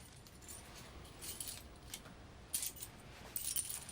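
House keys jangle softly as they are handed over, a few faint metallic clinks and rattles in an otherwise quiet room, with brighter bursts near the end.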